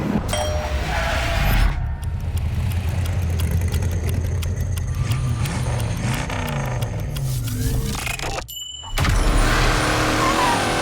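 A 2024 Chevrolet Silverado Fox Factory pickup driving, its engine a steady loud rumble with a clanking interior ding and brief quieter gap before the motor swells again.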